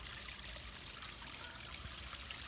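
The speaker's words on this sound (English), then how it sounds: "I love the sound of the water" Water trickles steadily in a small garden pond, a soft continuous babbling stream that stays faint and even throughout, with no voices.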